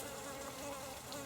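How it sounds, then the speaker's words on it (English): Bees and flies buzz steadily in the woods, a continuous close drone with no voices. "There's a bee right there."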